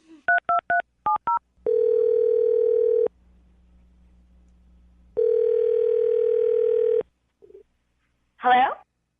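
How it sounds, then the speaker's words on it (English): A quick series of touch-tone beeps is followed by two long steady telephone tones separated by a low hum, then a brief voice at the end. "I'm going to dial the phone number right now"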